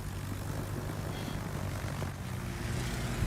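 Propeller warplanes fly overhead in the naval battle game World of Warships, a steady, dense engine drone that holds at an even loudness throughout with no voices.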